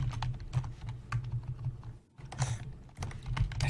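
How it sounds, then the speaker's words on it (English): Rapid, continuous keystrokes clatter on a computer keyboard, close and steady, with one brief pause before the typing resumes, no voices over it. "I was trying to type on the Wrong other one. on the wrong keyboard."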